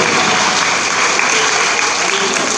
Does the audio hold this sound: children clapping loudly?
yes